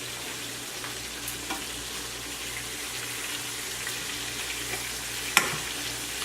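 Oysters fry in a pan with a steady crackling sizzle and faint stirring. One sharp click cuts through near the end. Nobody speaks.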